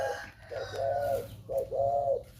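A dove coos nearby in soft, rounded phrases, several low hooting notes in a repeating rhythm, with faint background noise and no talking.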